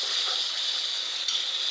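Katla fish curry masala with ginger paste stir-frying in a pan, a constant quiet hiss of sizzling oil with one small scrape, no talk.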